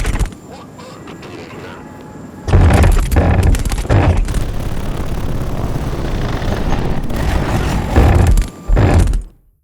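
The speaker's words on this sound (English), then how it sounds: "for now I'll just use insect wings as the source. And now, here is my recreation of that ornithopter scene." An ornithopter scene from Dune, recreated from insect wing sounds, comes in as loud rumbling, buzzing bursts that swell and cut out abruptly several times before fading to silence.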